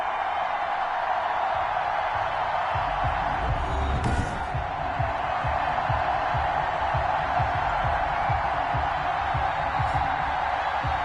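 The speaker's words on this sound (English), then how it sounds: "Big Ben Roethlisberger greeted by this sold-out Heinz Field crowd" Simulated sold-out Heinz Field stadium crowd in Madden 21 as the Steelers host the Broncos: a steady, loud broadband roar with rhythmic low thumping like stomping or chanting underneath, and a brief sharper burst around the middle.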